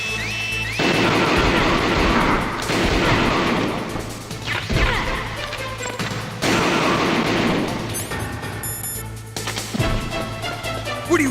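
Gunfire in the video game Metal Gear Solid: loud, close bursts of shots with crashing impacts, coming in several heavy volleys separated by brief quieter gaps.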